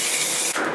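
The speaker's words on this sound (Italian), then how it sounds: "quindi prendo un rosso spray" Red spray paint hisses out of an aerosol can in a loud, steady, close blast, with a tiny break midway before the spray continues.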